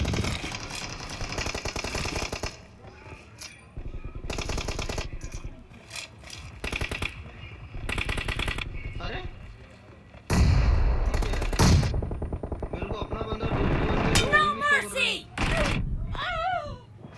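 Repeated bursts of gunfire from the BGMI battle royale game come in choppy clusters over roughly seventeen seconds. The shots are mixed with thumps and other game noise, and voices talk over them.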